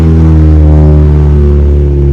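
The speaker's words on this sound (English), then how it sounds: "sorry about the car noise." A car passes close by, its engine a loud, steady, low droning rumble that fills the whole moment without any voices.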